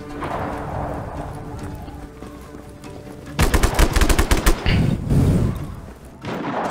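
Rapid automatic gunfire at a police station in the Just Cause 3 video game: loud bursts of shots cut in after a low rumbling stretch, followed by heavy thuds and explosions.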